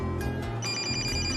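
A mobile phone rings in a telenovela scene, with a trilling electronic ring tone over a dense backdrop of music and ambient sound.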